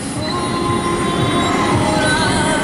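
A roller coaster train, resembling a B&M hypercoaster train, runs an empty test ride at Kennywood amusement park, giving a loud, continuous rumbling roar of wheels on track.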